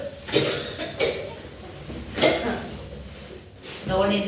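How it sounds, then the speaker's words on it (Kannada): Several separate coughs come in short bursts spaced a second or more apart, sounding fairly close, with a voice and faint background clatter between them. "ಕೆಮ್ಮಿ ಕೆಮ್ಮಿ ಎದಿ ಬ್ಯಾನ್ ಆಗತ್ತದ"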